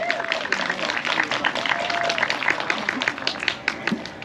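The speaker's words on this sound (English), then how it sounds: "so let's give them a big round of applause." Audience applause at an Indigenous Peoples Day gathering in Yellowknife, honoring newly elected officials; steady scattered clapping fills the whole stretch at moderate volume, with some voices and crowd murmur mixed underneath.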